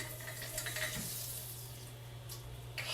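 A small pat of butter sizzles steadily in a preheated frying pan, a continuous soft crackling hiss with a low steady hum underneath and no talking.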